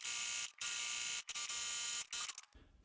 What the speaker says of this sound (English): So now we're gonna go to the machine and do some sewing. So we wanna clean this area. So we're gonna do a zigzag before we do that.